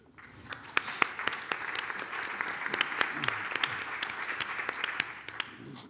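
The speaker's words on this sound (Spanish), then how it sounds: "Un aplauso para ellos." Hands clap warmly for the organisers of a Ministry of Culture anniversary event in Santiago de Compostela, a roomful of applause with sharp individual claps popping out of a sustained, moderately loud wash.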